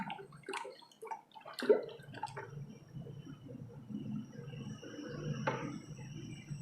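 Thick, wet squelching and soft sloshing as a dense carnauba wax mixture is stirred, with a few drips and clinks near the start.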